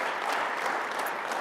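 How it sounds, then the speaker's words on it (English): A workshop audience gives panelists a dense, steady round of clapping, a full, even patter of many hands heard alone with no voices. "Let's give a round of applause to our panelists."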